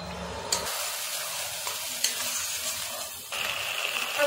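Ground spice paste hits hot fried onions in a pan, setting off a loud steady sizzle with scraping stir strokes and a few sharp clinks, the frying surging brighter near the end.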